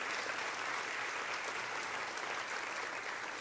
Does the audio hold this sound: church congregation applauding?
yes